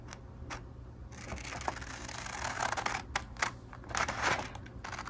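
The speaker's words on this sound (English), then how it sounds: "Use scissors to cut along the line." Scissors cut through paper in a string of quick, crisp snips and rustles, close and moderately loud, spaced irregularly with a few sharper clicks toward the end and no talking.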